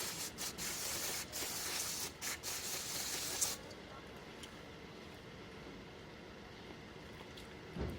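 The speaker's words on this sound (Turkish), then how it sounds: "balta temizleme spreyi ile biraz kirinin tozunu akıtalım" A steady hissing spray of brake cleaner onto a motorcycle's front brake caliper blasts for a few seconds, then cuts off, leaving a low background hum; close by.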